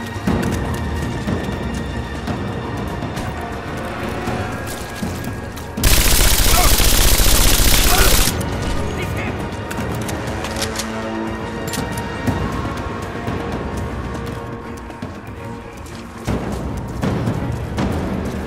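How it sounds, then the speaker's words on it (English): Suppressing fire in the Rise of the Tomb Raider game on PS4: a dense burst of rapid automatic gunfire erupts mid-scene for a couple of seconds, louder than the surrounding battle noise, with scattered shots and thuds before and after. "Suppressing fire!"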